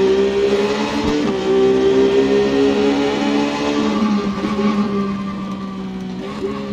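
A Triumph Street Triple motorcycle engine in a racing video game holds a loud, steady, buzzing drone whose pitch drops in steps as it downshifts, then dips and settles toward the end, with no voice.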